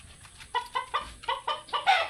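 A laying hen clucks in a quick series of short, rhythmic clucks, close by and moderately loud, with no talking.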